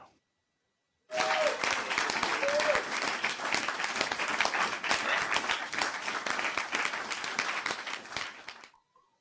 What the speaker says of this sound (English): That's the crowd cheering a wee bit more because they're glad that rack's over.